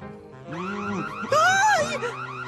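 A warbling electronic alarm sounds with rising and falling tones, loud and close, jumping higher partway through, an alarm that needs a code to stop.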